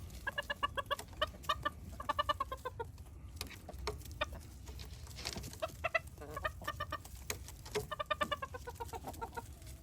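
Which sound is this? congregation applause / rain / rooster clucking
rooster clucking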